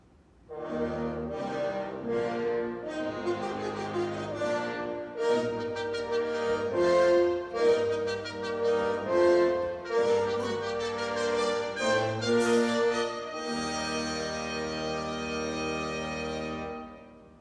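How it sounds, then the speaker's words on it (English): A brass section of trumpets and horns plays together in a full, sustained passage of rich chords and moving melody, steady and moderately loud, with a long held final chord. "Together, the brass section sounds like this."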